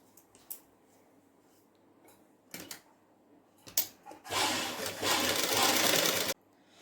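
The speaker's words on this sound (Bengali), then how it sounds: "এইবারে কিন্তু এর ওপর দিয়ে সেলাই ধরিয়ে দিতে হবে।" Sewing machine stitching through a padded blouse, with a few short handling noises, then a steady loud machine run of about two seconds close by.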